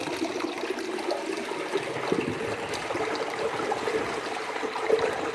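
A toilet flushing: a steady, moderately loud rush of running water that holds without a break for about five seconds, with no voices over it.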